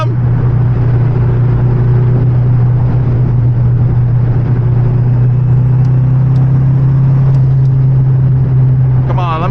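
A car engine drones steadily from inside the cabin while chasing a Mercedes C63 AMG, a loud continuous low hum with a slight rise in pitch, and someone talks over it.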